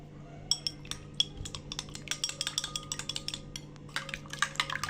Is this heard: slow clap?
no